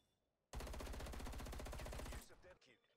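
An assault rifle in Call of Duty Cold War fires one loud sustained burst of rapid automatic gunfire for nearly two seconds, then cuts off into a short trailing echo.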